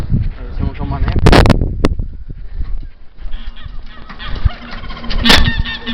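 Turkeys and other fowl honk and gobble loudly nearby in irregular bursts, with people talking over and between the calls.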